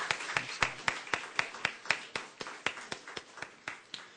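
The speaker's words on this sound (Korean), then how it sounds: "하나님께 영광의 박수 돌립니다." A congregation claps together in worship during a New Year service, a steady run of about seventeen sharp, evenly spaced claps, close and fairly loud, with no talk over them.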